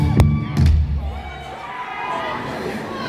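A crowd at a band's evening concert on the pier cheers and whoops in short bursts, then settles into a murmur of chatter under the hall's reverb.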